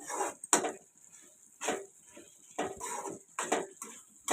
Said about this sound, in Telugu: మూత అయితే తీసేస్తాను ఫ్రెండ్స్